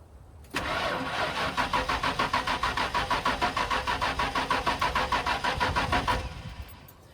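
A car engine with a fault tied to a P0320 code cranks steadily without catching, the starter's rapid rhythmic chugging running loud and close for several seconds before it cuts off abruptly.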